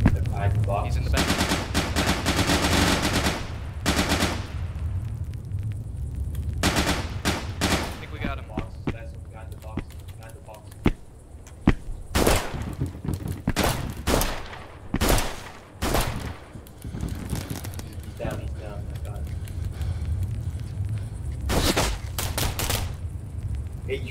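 Rapid gunfire in the video game Intruder, dense automatic bursts and single shots crackling almost without pause and loud throughout, with players talking over the shooting.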